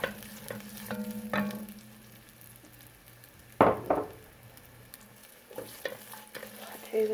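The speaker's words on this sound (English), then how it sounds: "Now that the oil has heated up, I'm going to go ahead and add half of a medium diced" Half a medium diced onion hits hot oil in a Dutch oven, giving a sharp burst of sizzling and stirring that fades back to a steady low frying crackle, with a few scrapes and clinks around it.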